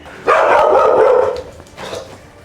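A reactive dog on a leash lets out a loud, close bark that stretches into a drawn-out, strained yelp, then gives a second, shorter and fainter bark, with no talking.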